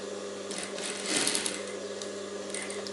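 An electric sewing machine stitches the lining of a princess-cut blouse, a steady close whirring run that swells briefly in the middle, with no voices.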